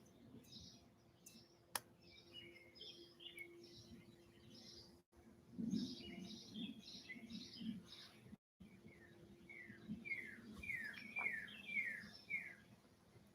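Small birds chirp in repeated bursts of high, quick notes on a spring morning, fairly faint over a low steady hum, with brief gaps and a sharp click early on.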